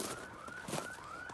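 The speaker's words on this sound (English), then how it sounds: "Sorry about that alarm going off." A car alarm wails faintly in the distance outdoors, its rising and falling siren tone repeating in slow sweeps above steady background noise.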